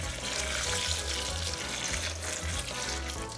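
Brine pours into a stainless steel container packed with trimmed Cheongyang chili peppers, a soft steady splashing and trickling stream heard close by, fairly quiet, with no talking.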